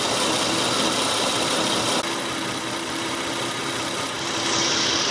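A Toyota Avalon engine runs with a misfire, giving a steady, loud idle hum with a faint uneven knock, close by with no talk.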